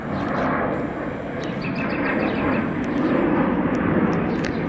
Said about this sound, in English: Oh, big plane on landing, look at that.